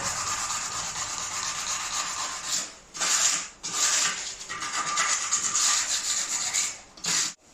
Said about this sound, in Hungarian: Végeztem a csiszolással